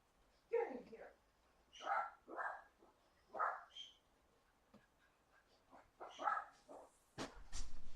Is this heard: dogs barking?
yes